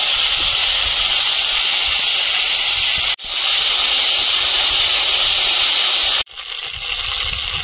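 Chilies, whole cumin, and ginger-green chili paste go into hot oil in a wok, making a loud, broad, steady hiss that cuts off abruptly twice.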